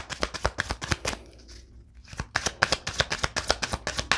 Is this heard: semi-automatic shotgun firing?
no